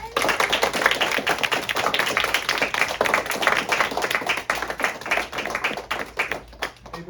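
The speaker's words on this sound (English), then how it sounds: "Give them a round of applause, friends." A crowd of students at a school talk claps steadily, dense overlapping applause that carries on for several seconds and thins slightly toward the end.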